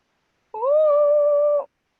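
A cat gives a single long, steady meow of about a second, loud and close, with a clear tone that holds even and then stops cleanly, set against otherwise silent surroundings.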